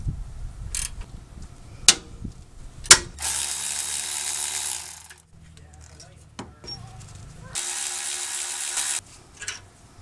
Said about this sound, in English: Now we can loosen and remove these two slide pin bolts. 10 millimeter socket is what I'm using here with this long handle flex head wrench.